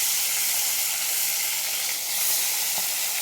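Hilsa fish, rubbed with salt and turmeric, sizzles loudly and steadily in hot oil in a wok, a dense continuous hiss and crackle close by with no voices.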